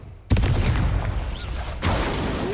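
A Confringo explosive spell cast in Hogwarts Legacy bursts in with a loud, dense blast after a brief quiet, sustaining a rumbling roar before a second sharp burst follows near the end.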